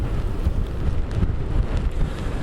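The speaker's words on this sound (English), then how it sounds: "Well, David and Regina, what a wild, wet, windy day it has been here in the Outer Banks" Strong hurricane wind buffets the microphone outdoors on an Outer Banks highway, a loud, continuous roaring rumble with gusty surges.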